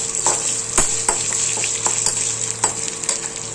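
Skin-on urad dal fries in oil in a pan with a continuous close sizzle, broken by repeated scraping strokes of a stirring spoon at an uneven rhythm.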